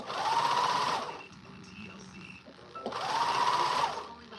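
Twin-needle sewing machine stitching dancewear in two fast whirring bursts, each about a second long, separated by a quiet pause with faint handling noises.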